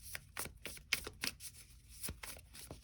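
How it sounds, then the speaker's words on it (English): Tarot cards being shuffled by hand: a quick run of soft, papery riffles and flicks in uneven bursts, close and fairly quiet, with no talking. "I'm going to shuffle one more time."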